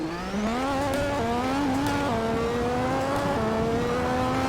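A Ferrari Formula 1 car in a driving game, turbo turned up to full, revs loud and continuously. The engine note climbs through several gear shifts, each marked by a brief drop in pitch before rising again.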